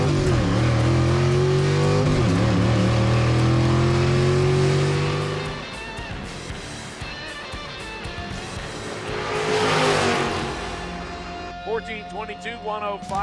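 A stick-shift 1955 Chevy race car accelerates with a loud, rising engine roar that fades into a quieter stretch, then a distant swell, with talking heard throughout.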